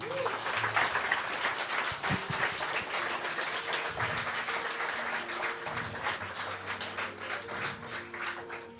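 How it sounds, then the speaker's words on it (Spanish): A congregation applauds loudly and steadily during an Easter worship service at a church, the dense clapping continuous throughout with a few faint voices and tones beneath. "Dale un fuerte aplauso, Señor."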